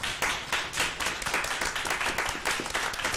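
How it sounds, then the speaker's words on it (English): Round of applause at a public school board of trustees meeting, a room of hands clapping steadily and fairly close for about three seconds with no talk over it. "I want to give them a public round of applause for their work"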